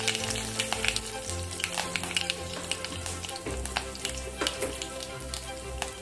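Asafoetida drops into a hot oil tempering of mustard, fenugreek and curry leaves for a Tamil kara kulambu, a close, continuous sizzle with sharp spitting crackles and occasional stirring noise.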